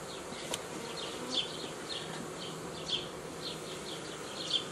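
Honeybees hum in a dense, steady drone inside a queenless hive, close and quiet, with occasional higher buzzing pulses rising above the swarm.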